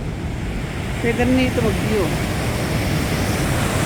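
Niagara Falls roars as a steady, dense wash of rushing water and churning waves, loud and constant, with a person talking over it.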